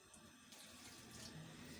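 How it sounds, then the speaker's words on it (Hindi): Water trickles in a steady stream into gram flour batter for vegetable pakora, a soft continuous pouring sound with no talk. "पानी को आहिस्ता आहिस्ता करके डालेंगे"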